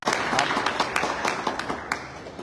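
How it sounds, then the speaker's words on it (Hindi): An audience at a wellness company car achievers event claps loudly in a dense, continuous burst that tapers slightly near the end, with faint voices underneath. "मैडम एक जोरदार तालियां।"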